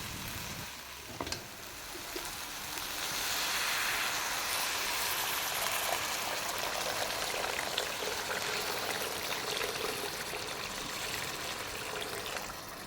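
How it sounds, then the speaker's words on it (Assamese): Hot water pours into a pan of cooking taro greens, a steady broadband rush and sizzle that swells after a brief clatter and then holds loud and even to the end, with no talk. "গৰম পানী দি দিলোঁ।"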